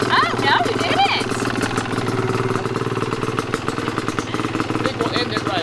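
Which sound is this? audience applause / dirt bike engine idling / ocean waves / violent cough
dirt bike engine idling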